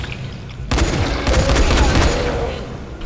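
A sudden burst of rapid gunfire erupts in Dying Light after a short quiet moment, loud and close, with a second volley following.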